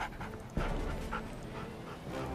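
Dog unit in the strategy game Red Alert 3 panting rapidly and steadily, with a sharp thud near the start and other game effects underneath, no voices.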